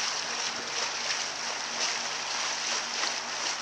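A boat motor runs steadily while the boat is brought upriver, with a broad, constant hiss of engine and water rushing past at an even level.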